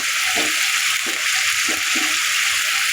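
Ground spices sizzling and frying in a pan with ginger and garlic for a rustic katla fish curry, a steady hiss with a few soft stirring scrapes, close and alone.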